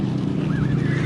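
A goose at a bird park gives a short, loud honk up close, a brief nasal call over a dense, busy background of other waterfowl.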